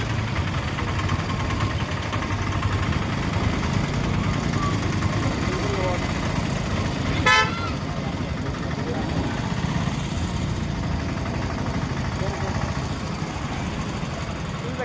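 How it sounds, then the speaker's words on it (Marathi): Street traffic gives off a steady, close engine rumble and idling drone throughout, with one short horn toot about halfway through. "त्यामुळे तुम्हाला ट्रॅफिक सदा दिसणारच"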